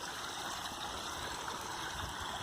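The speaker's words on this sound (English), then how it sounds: "This is the main waterfall. This one runs all the time," A koi pond's main waterfall pours steadily over rocks, a constant close rushing and splashing wash of water with no pauses and no voices.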